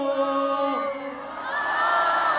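Concert crowd at an OPM show shouting together in a loud, sustained collective roar that swells and holds with mixed cheering voices.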